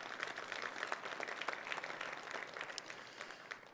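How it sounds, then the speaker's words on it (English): Audience applause for medal sponsors at a lunch presentation: a steady wash of many hands clapping, moderately distant and even throughout, tapering slightly at the end. "a round of applause"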